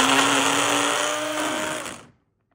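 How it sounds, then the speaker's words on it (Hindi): An electric blender grinds garlic, ginger and five green chilies with a little water, a loud steady whir for about two seconds before cutting off abruptly. "लहसुन, अदरक, 5 हरी मिर्चों को पीस लेते हैं।"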